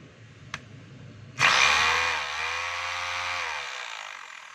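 A repaired DeWalt D25032 rotary hammer with a fixed field coil brass holder starts after a brief click and runs with a loud, steady motor whine that settles slightly, then stops, heard alone.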